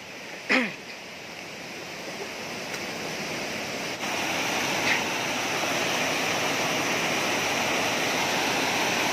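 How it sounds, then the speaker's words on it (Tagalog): Steady, continuous rushing of a waterfall, broad and unbroken throughout, with one brief sharp sound near the start and no talking. "Talon, talon."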